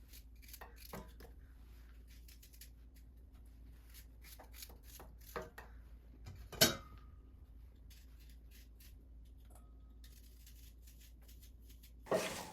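A knife slices through about two pounds of apples for a canned apple pie filling, giving soft scattered cuts and taps on a board, with one sharper knock and a clatter near the end, close and quiet.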